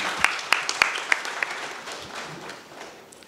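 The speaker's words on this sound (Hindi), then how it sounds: "आपका जोरदार तालियों के साथ।" Audience applause welcoming the chief guest at a journalism award ceremony, a few sharp early claps swelling into a softer, fading ripple of clapping from a hall crowd.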